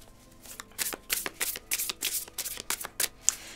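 Tarot cards are shuffled for a general reading: crisp, close riffling and slapping bursts in an uneven rhythm, clear and without talk.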